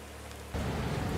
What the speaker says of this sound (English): I would have rested a bit more just to see if this rain would go away, but now it's it's worse. There's a storm now.